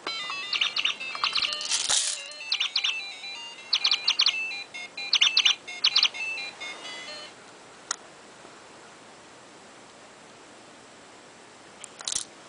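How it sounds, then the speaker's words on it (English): A toy chickadee being wiggled by a budgie gives bursts of bright electronic chirps in quick clusters for the first seven seconds, then stops, leaving a quiet room with a faint click near the end. "You like to wiggle until he chirps."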